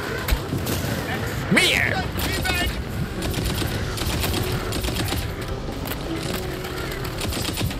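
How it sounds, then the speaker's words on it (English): Rapid gunfire rattles in the looter-shooter game Tiny Tina's Wonderlands, steady crackling bursts running throughout with mechanical clatter, while a player shouts over the shooting. "Alright, I'm gonna shoot ya!"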